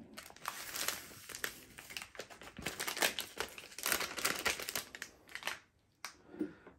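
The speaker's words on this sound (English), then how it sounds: "I cannot open this packet. It is extremely tricky to open." A tough plastic packet of falafel mix is wrestled open, giving continuous loud crinkling and crackling with sharp snapping bursts and no talk.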